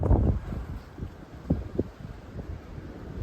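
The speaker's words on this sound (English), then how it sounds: "It's kind of cold and windy" Cold wind gusting across an exposed Appalachian Trail mountain summit, low rumbling buffets hitting the microphone in uneven bursts, strongest at the start and again in a few short pulses, with no talking.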